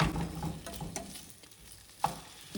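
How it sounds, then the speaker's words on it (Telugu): Chopped tomatoes frying in a pan, a quiet soft sizzle with a few light stirring taps and one sharp clink near the end. "వీటిని కొంచెం ఫ్రై చేసుకోవాలి"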